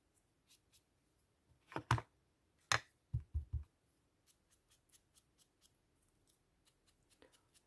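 Scissors cutting paper for a junk journal, with a few crisp close snips in a quick cluster and then faint small clicks and rustles in a quiet room.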